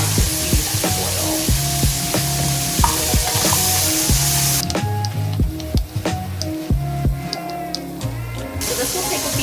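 Oil heating in a pan on high heat, a steady hiss and sizzle running under a busy mix of tonal hums, clinks and knocks, the sizzle changing partway through, no speech.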